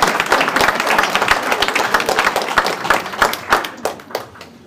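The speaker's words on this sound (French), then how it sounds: "Je vais l'applaudir." Applause from an audience at a town medal ceremony in Caudry, dense clapping from many hands filling the room and thinning out toward the end.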